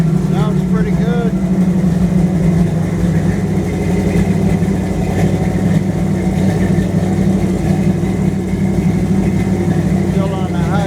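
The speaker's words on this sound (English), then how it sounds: "I'm gonna fire it up and see what it sounds like." A 1929 Chrysler with a 360 engine and custom exhaust with big tail pipes runs steadily with a loud, deep continuous rumble, close by, while a voice talks intermittently over it.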